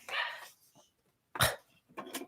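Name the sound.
puppy barking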